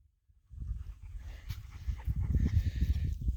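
A dog carrying a shed elk antler during an elk shed hunt whimpers and pants up close, breathy bursts that start after a brief silence and grow louder and more rhythmic toward the end, with no talking.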